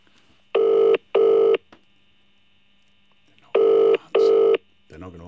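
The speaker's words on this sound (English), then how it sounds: "Phone's so loud." Telephone call ringing out on a handset speaker, two pairs of loud, steady electronic ring tones separated by a long silent gap, with a faint constant hum underneath and a voice starting at the very end.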